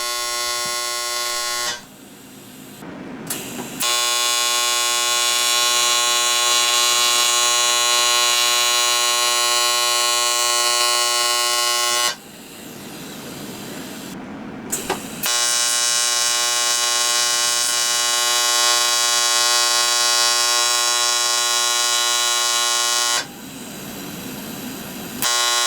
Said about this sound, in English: I'm not using pulse, as this is just a weld and fill operation